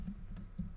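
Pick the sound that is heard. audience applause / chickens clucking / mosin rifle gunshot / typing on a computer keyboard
typing on a computer keyboard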